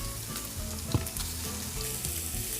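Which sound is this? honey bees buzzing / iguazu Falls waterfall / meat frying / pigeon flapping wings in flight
meat frying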